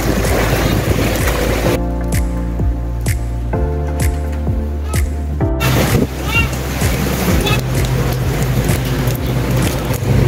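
A strong windstorm roars continuously and loudly, with gusts rattling and knocking around a building where a wooden board has broken and fallen.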